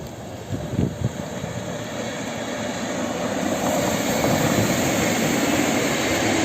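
An Intercity Panorama passenger train hauled by an EU160 locomotive passes a trackside spot near Warsaw during a storm, a loud, steady rushing roar that builds and holds for several seconds.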